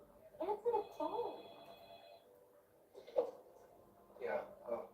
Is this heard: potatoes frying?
no